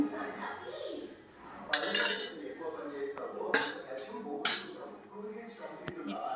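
A metal spoon scrapes and clinks against a cooking pot as spicy Andhra-style chicken curry is stirred, with several sharp clatters over a steady low background.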